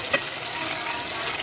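Chicken and cabbage fry in a pan with a steady, soft hiss of sizzling. There is a brief louder crackle near the start.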